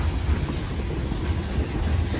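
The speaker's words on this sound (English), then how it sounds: "Big train." A long Union Pacific coal freight train rolls past in Newport, Arkansas, a steady low rumble with faint rhythmic clunks of wagons, continuous and moderately loud.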